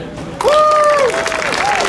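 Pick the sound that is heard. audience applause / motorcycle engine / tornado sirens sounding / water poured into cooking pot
audience applause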